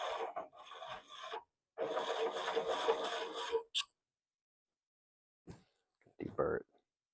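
A piston ring end gap is filed for a Turbo 302 build in two short raspy bursts of back-and-forth strokes, close and dry, followed by quiet and a few small clicks.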